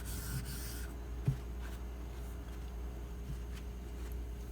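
A Kamisori razor is being sharpened with pressure across the whole edge, giving soft, steady rasping strokes against the stone over a low constant hum, close and fairly quiet with one brief louder scrape.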